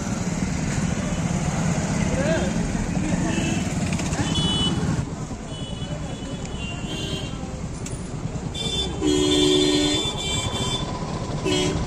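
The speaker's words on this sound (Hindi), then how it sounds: "रश हो गया, जाम लग चुका है यहाँ पे" A roadside traffic jam on a tehsil road in Samba, with a dense rumble of slow-moving vehicles and scattered horn toots, the noise dropping slightly midway before a louder burst of honking near the end, with voices mixed in.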